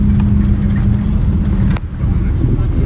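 An Emirates Boeing 777-300 brakes hard after landing at Dubai, heard from inside the cabin. A loud, steady, low rumbling roar fills the clip, with a brief dip partway through.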